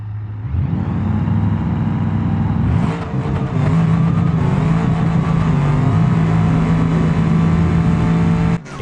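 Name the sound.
ProCharged Grand Marshal drag car making a pass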